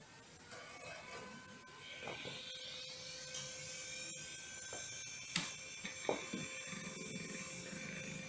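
A computer built around an i5 2500K powers on, its fans spinning up with a rising, whining tone over a steady quiet hiss and a few faint clicks.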